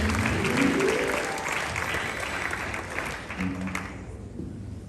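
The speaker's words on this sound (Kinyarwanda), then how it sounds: "Dukomere Imana amashyi cyane." A wedding ceremony crowd breaks into sustained, dense applause, loud and close at first and thinning slightly toward the end, with faint voices mixed in.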